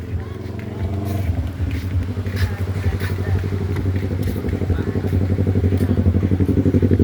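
Racing motorcycles near a beach rumble and rev close by, a throbbing engine note that swells toward the end, with clatter and voices in the background.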